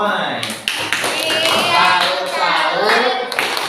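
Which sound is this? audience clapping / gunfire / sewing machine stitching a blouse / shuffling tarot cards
audience clapping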